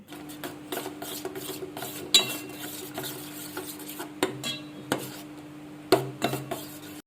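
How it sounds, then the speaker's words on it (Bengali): A spoon stirs sour yogurt mixed with cumin powder, turmeric and Kashmiri chili powder in a bowl, giving soft irregular scrapes and light clinks against the side, close and quiet, with no talking. "এবারে টক দইয়ের মধ্যে আমি দিয়ে দেবো জিরের গুঁড়ো, হলুদ গুঁড়ো আর কাশ্মীরি লঙ্কার গুঁড়ো"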